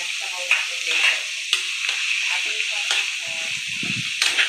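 Shredded chicken and onions sizzle steadily in a hot pan for chicken sotanghon soup, with a utensil stirring and scraping close by and a voice talking faintly in the background.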